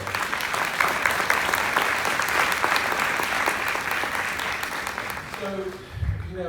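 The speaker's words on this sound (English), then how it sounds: "Please join me again in giving Eugene an outstanding applause" Keynote audience applauding Eugene, a dense, loud, sustained round of clapping from a large crowd that tapers off near the end as a voice begins.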